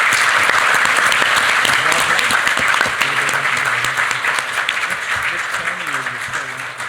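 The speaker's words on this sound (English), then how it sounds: "round of applause for our first panelist" Audience applause at a panel discussion, sustained and loud across the whole span, tapering slightly toward the end as a voice begins speaking underneath.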